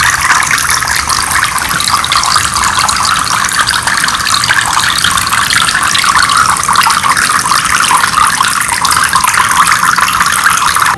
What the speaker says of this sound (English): This submersible pump works with a 9-volt battery, and I have given a switch to control the flow